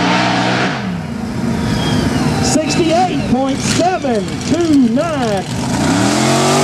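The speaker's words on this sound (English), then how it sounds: "Now he'll stand on that big Chevrolet horsepower." A big Chevrolet-powered mega truck accelerates hard at a Texas mega truck race, its loud engine rising and falling through a series of surging revs. An announcer talks over it.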